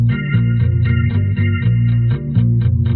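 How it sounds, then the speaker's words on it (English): Bass guitar part from a late-80s gothic post-punk song: deep, driving low notes pulse in a steady rhythm beneath faint effected guitar, loud and up front with no voices. "Here we have the bass."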